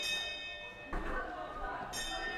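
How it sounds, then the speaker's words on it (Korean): Bright metallic bell rings, two distinct strikes with long shimmering sustain, heard faintly at a distance amid quiet room sound. "종소리가 계속 들려서"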